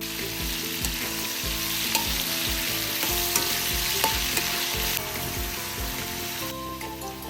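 Potatoes and carrots frying in a pan, a steady close sizzle with repeated scraping strokes of a utensil stirring through the pieces.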